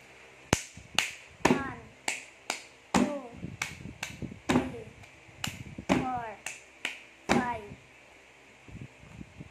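Hands clap and tap a steady beat, about a dozen crisp, evenly spaced sharp hits, close and clear with small gaps between them.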